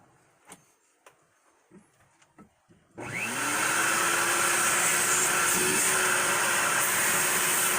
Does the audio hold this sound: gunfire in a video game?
no